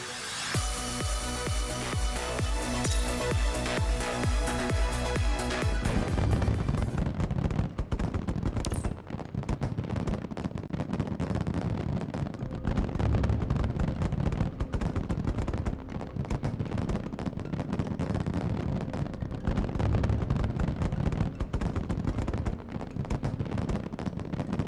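Fireworks crackle and boom through the opening show of Aether Gazer, a dense, continuous barrage of bursts and rumbling explosions after a brief musical intro.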